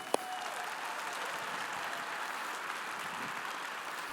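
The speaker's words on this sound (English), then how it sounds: "Give him a round of applause, please." At a credit union annual meeting, an audience applauds a welcomed veteran guest. The applause is steady and moderately quiet, with a sharp knock just at the start.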